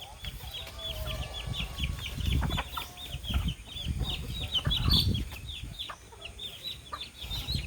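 Chickens cluck and squawk near at hand in repeated short calls, with rustling and scratching as the birds are fed, and a voice murmurs in the background.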